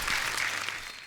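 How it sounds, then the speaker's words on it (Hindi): Dense, steady audience applause on a comedy talk show stage, loud and continuous for about a second with no speech over it. "सुनिधि, दिव्या जी और संजय जी के लिए जोरदार तालियां हो जाए"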